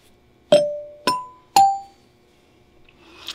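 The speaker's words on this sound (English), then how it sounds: "the reason for the chime is NBC" The three-note NBC radio chime rings out clearly, three bright struck tones in quick succession, each ringing and fading before the next, followed by a short quiet tail.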